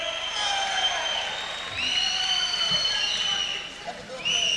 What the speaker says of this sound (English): 3 cheers for Evan Themelakis. Have up! Have up!